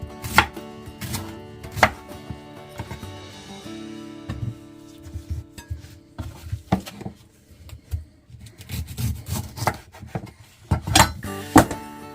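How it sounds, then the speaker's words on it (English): A knife cuts the core out of fruits and vegetables for a wound-healing juice, giving sharp clacks on a board in irregular bursts, close and clear, with no talking. "I am going to just take a little bit of the core out"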